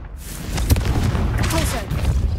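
A Confringo fire-blast spell erupts in the video game Hogwarts Legacy, a sharp boom followed by crackling and rumbling, with a voice speaking over it.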